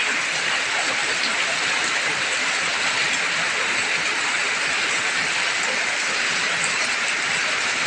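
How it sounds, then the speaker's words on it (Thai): Rain falls steadily at a home in Laos at the start of the rice-growing season, a constant, dense hiss with no pauses or breaks. "บรรยากาศฝนตก อยู่บ้านเฮาพี่น้องมื้อนี้"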